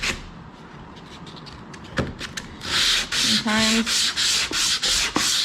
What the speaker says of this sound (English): it gives you nice hard edges to do your hand sanding with